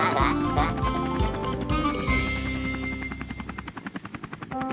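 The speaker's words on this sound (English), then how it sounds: "it's time for the helicopter to land" Cartoon helicopter flying and trying to land, with a loud whirring engine whose rotor beat turns into rapid rhythmic chopping pulses toward the end, layered under music and effects.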